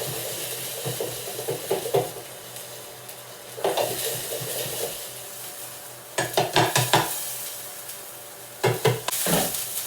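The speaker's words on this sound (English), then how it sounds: "Shake up my onions now." Onions fry in a pan with a steady close sizzle. The pan is shaken several times, giving bursts of rattling and scraping between calmer sizzling.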